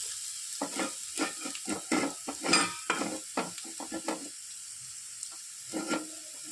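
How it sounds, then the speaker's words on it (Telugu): Peeled beetroot fries in oil for a pickle, crackling and sizzling in a pan with intermittent stirring scrapes, close by and fairly quiet, with bursts of activity fading toward the end. "ఇలా పీల్ చేసేసుకునే దాన్ని ఆయిల్లో వేయించేస్తాను"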